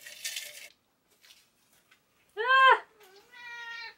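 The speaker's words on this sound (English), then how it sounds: "I dropped it on my cat and he meowed at me." A cat gives two short, close meows after a book drops onto it, with a brief soft thump at the start and quiet gaps between.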